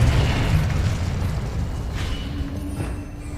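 A fire spell explodes in the Hogwarts Legacy video game, a loud low boom with a rumbling blast that slowly fades.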